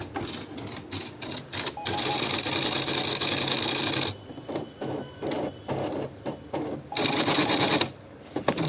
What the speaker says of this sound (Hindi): ये आज प्रिंटर है MFC 430, जिसमें एक साउंड आ रही है